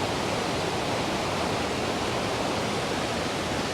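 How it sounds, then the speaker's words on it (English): The Falls of Clyde waterfall near New Lanark in Scotland gives off a loud, constant roar of rushing water that fills the clip. No one speaks. "Yet another gratuitous shot of a waterfall."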